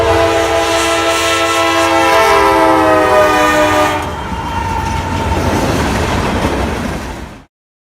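Lionel Thomas and Friends ready-to-play toy train set running, with a loud steady whistle-like horn tone for about four seconds, then a rattling clatter of the toy train rolling along its track before it cuts off.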